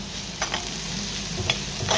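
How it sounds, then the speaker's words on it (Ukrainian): Soft, steady sizzling of cabbage frying in a pan, with a few quiet scrapes and stirring sounds against the metal. "А тут я смажу капустку на варенички."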